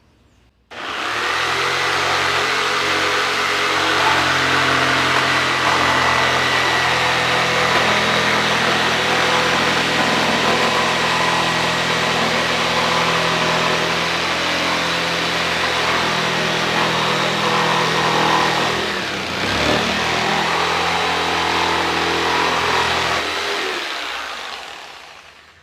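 Jigsaw cutting a circle in a wooden board in a workshop, a loud continuous motor whine with a steady buzzing cut that runs nearly unbroken for over twenty seconds, with one brief dip partway through.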